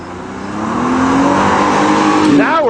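A Pontiac Fiero V6 engine pulls away with a loud, rising rev and a climbing harmonic whine, swelling then shifting near the end, close by, with people talking over it.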